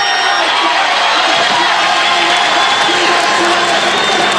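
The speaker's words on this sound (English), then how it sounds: "He will get a huge cheer as we count down." Roadside crowd cheering for Cadel Evans, defending champion, at the start of a Tour de France time trial: a loud, continuous roar of shouting, whoops and clapping with no break.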